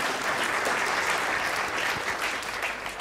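An audience at a contest bursts into sustained applause, a dense, even wash of clapping hands that holds steady for a few seconds with no voices over it.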